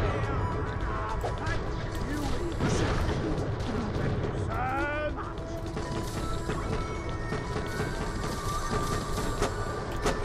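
Gunfire in the video game Borderlands The Pre-Sequel sounds as booming shots mixed with ratcheting mechanical clanks and creaks at a steady moderate level, with game chatter over them.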